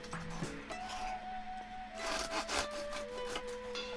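A knife saws through a cooled, homemade rustic bread loaf with a crisp, thin crust, giving rough rasping strokes that repeat steadily at close range against a faint steady hum.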